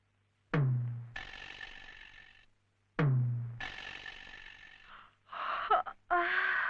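Yawning in a Telugu film scene: two long, drawn-out yawns, each opening abruptly and trailing off into a breathy moan, followed by a shorter broken vocal sound, all close and otherwise quiet.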